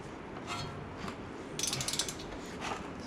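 A ratchet snugging up brake caliper bolts on a 2015 Dodge Dart gives a short, quiet burst of rapid clicks in the middle, with faint workshop background before and after.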